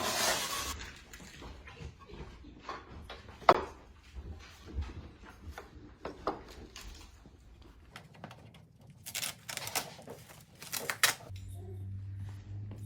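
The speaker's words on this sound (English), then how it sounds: "And now we can latch your cart." Wooden SASS shooting cart's latch bales snapping into place: a few sharp wooden and metal clicks and clacks at close range in a quiet room, with soft handling noises between them and no talking.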